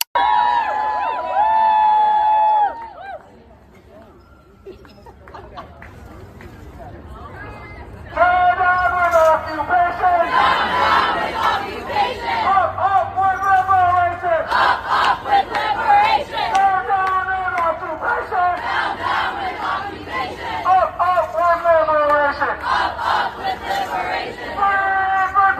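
Harvard students cheering as the American flag is torn down: a crowd of shouting, whooping voices rises loud and dense after a brief quieter gap, with chatter and cries overlapping throughout.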